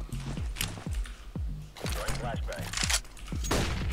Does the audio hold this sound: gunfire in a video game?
yes